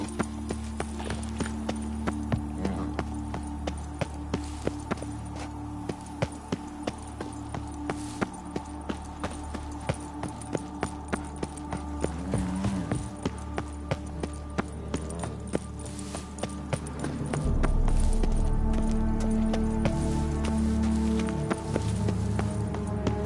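Horse hooves clip-clop at a steady trotting rhythm in the video game The Witcher 3, close and continuous over quiet ambience, with a fuller, louder background near the end.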